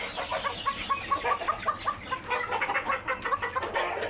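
Brahma chickens cluck close by in a quick run of short, rhythmic clucks that grow busier and overlap toward the end, with no talking.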